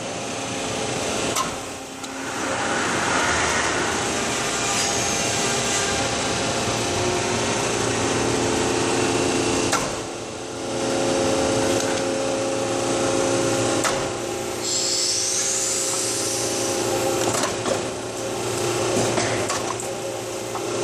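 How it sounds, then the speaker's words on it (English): A mandrel bending machine bends exhaust header tubes in a fabrication shop, giving a steady loud mechanical whir and hum with intermittent clanks and brief pauses, a high whine rising near the end. "This thing is making mandrel bends so that the radius is constant and the diameter is constant throughout the length of the pipe."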